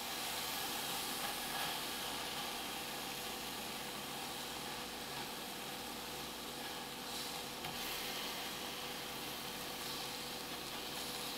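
Low-fat vegan food cooking in a pan, giving off a steady, faint sizzling hiss that holds unchanged throughout, with no talking.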